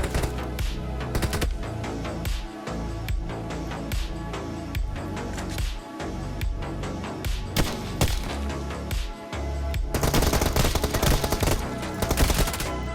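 Shotgun fire in a video game, a busy run of sharp, loud blasts and thuds repeating irregularly throughout, with a denser burst of shots toward the end.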